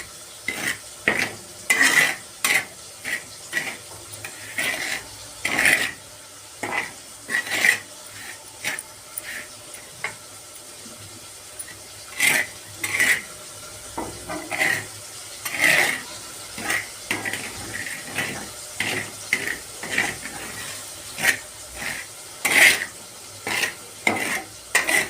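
Semolina being dry-roasted for upma in a pan, rhythmic scraping and stirring strokes of a spoon against metal repeating every second or so, near and fairly loud over a faint background hiss.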